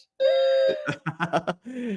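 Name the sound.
fire alarm going off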